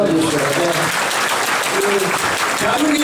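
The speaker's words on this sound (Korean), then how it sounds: "네, 박수 한번 주시고요." A crowd at a talk-concert fan meeting with a city mayor applauds loudly and steadily throughout, the clapping mixed with cheers and voices.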